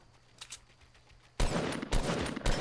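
Gray assault rifle fire in the video game Fortnite breaks out as a loud, rapid burst of shots after a quiet stretch of faint game ambience, then continues in close, dense bursts.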